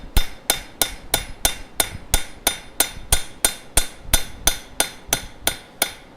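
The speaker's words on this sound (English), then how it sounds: "I'm aiming for the in-between spots of the hammer blows I've already hit" A hammer strikes a copper coffee scoop in a blacksmith shop, about twenty-six sharp metallic blows in a quick, even rhythm, each ringing briefly before the next, close and alone.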